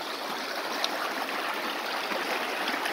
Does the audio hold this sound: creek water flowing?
yes